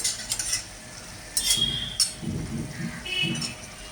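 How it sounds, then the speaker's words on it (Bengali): A spoon stirs garam masala and dried fenugreek leaves into a spinach paneer curry in a pan. There are several soft scraping strokes with light clinks of utensil on metal and a faint sizzle. "একটু মিক্স করে নিলাম।"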